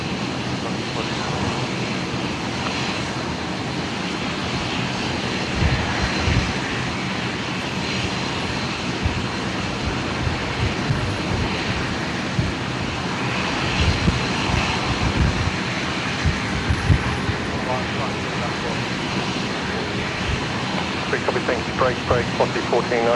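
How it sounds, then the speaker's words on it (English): A Qantas jet begins its takeoff roll at Brisbane Airport on a stormy evening. A broad, rising jet engine roar fills the scene while a person talks over it throughout. "next departure, Qantas 5:39, heading to Sydney, just beginning its takeoff roll"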